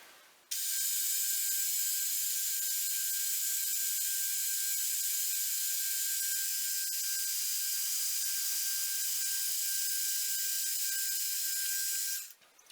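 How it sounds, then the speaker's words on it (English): Milling machine end mill cleaning out a spot face on a PM Research Number 4 cross head, a steady high-pitched whining cut running evenly for about twelve seconds, starting and stopping abruptly, alone without talk. "simply bring the end mill back down and then move the table in the X direction and just clean out that spot face"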